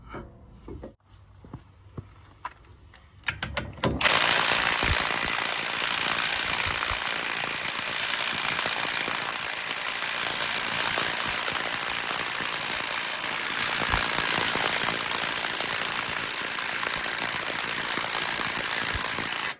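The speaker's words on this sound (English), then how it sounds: "That's why I'm going to opt out for my impact wrench." An impact wrench loudly hammers at Loctite-secured front brake bolts on a 2019–2024 Chevy Silverado, a few short bursts and clicks followed by a long continuous rattling run up close.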